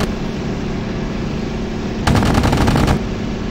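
A rapid burst of aircraft cannon fire hammering a Blenheim bomber in the WWII flight combat game Battleground Europe, about a second of loud, dense shots rising over a steady engine drone.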